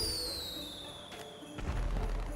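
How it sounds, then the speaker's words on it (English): Fireworks going off in GTA 5 on a PS5 on Christmas night, a steady whistling hiss giving way to a dull thumping burst and crackle near the end, with no voices. "Do the last fireworks of the night."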